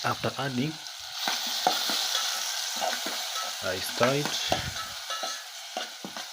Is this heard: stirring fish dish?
yes